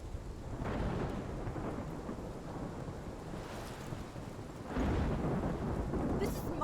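A thunderstorm in the video game Life is Strange: deep, rolling thunder with steady rain and wind noise, swelling into a louder crash near the end, with no talking.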